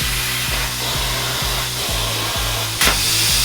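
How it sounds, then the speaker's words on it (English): Power tool cutting a square metal plate for a rat rod wrecker, a steady loud grinding roar with a regular pulsing rhythm and a short harsh burst near the end. "So we're cutting a square plate out"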